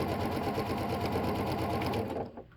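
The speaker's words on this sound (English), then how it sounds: "Stitch along. Take your time. Make sure that you're stitching where you want to go." A sewing machine stitching quilt blocks runs in a fast, steady whir of rapid needle pulses, close and loud, for about two seconds before winding down and stopping.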